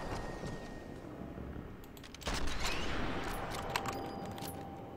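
Gunfire in the video game Sniper Elite 4, heard as a quick cluster of sharp cracking shots in the middle of the clip, with more scattered bursts and a lingering rumble afterward, all fairly quiet.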